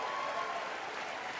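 Applause from a large audience at a political speech, a steady dense clapping wash that fills the whole moment without breaks.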